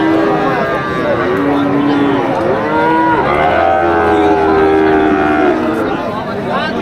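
Friesian cows moo repeatedly in long, low calls over the constant hubbub of a busy crowd at an outdoor cattle market in Ambari, Dinajpur.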